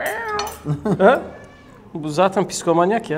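A cat meows loudly nearby, giving a couple of drawn-out meows, while people talk over it and dishes clink faintly.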